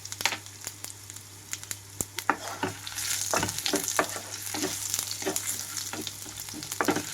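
Coriander seeds, ginger pieces, fenugreek and cumin roasting on a low flame for curry leaf chutney, with a soft crackle and repeated scraping, clinking stirs against the pan.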